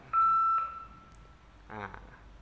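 A security camera's LINE message notification sounds as a clear electronic tone lasting about half a second, followed a moment later by a short burst of chiming notes, set against quiet room background.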